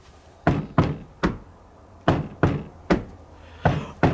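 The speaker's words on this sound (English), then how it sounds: "I'll just give the door a knock." Knocking on a wooden shed door: eight sharp raps in uneven groups, spaced roughly half a second apart, close and clear with no talk.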